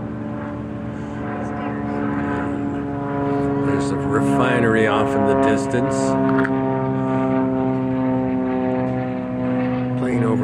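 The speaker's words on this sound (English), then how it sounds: "Plane overhead." A propeller airplane passing overhead near Cap Sante by Anacortes drones steadily and loudly throughout, a sustained tonal engine hum with a person talking over it.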